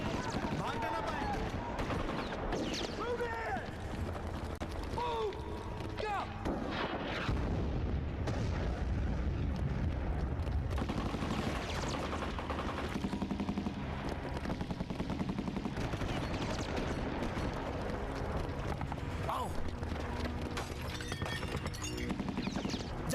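Battle scene from an Iranian war film, with heavy gunfire, booming explosions and artillery blasts rumbling continuously under shouted voices and dramatic sound.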